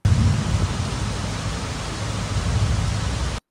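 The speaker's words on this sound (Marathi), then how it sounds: "आत्ता चालू आहे पुण्यात खूपच जास्ती धुवाधार पाऊस." Heavy downpour of rain in Pune, a dense, steady roar of falling water that stays loud and even for a few seconds with no voices, then stops abruptly.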